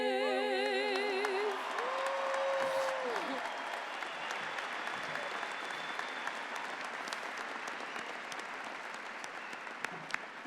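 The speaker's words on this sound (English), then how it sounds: "Give them another round of applause." Commencement audience at an undergraduate ceremony breaking into sustained, dense applause that rises quickly and holds steady, fading only slightly toward the end, with a brief singing tone lingering at the start.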